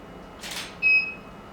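A camera shutter fires once, a short bright click followed by a thin high electronic beep, heard close in an otherwise quiet room with no talking.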